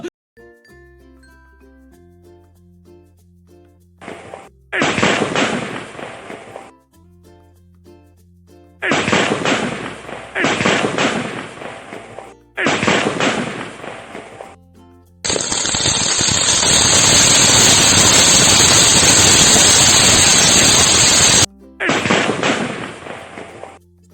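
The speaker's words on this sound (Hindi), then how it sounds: "आए पटाखे फूटने वाले हैं" Diwali firecrackers in a village celebration burst in several loud rapid crackling volleys, each lasting a few seconds, separated by quieter music, with one long, bright, sustained sizzling burst near the end.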